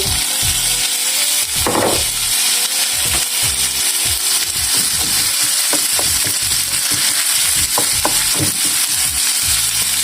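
Onions sizzle and crackle steadily in olive oil in a hot pan, frying until golden, with occasional scraping and stirring sounds throughout.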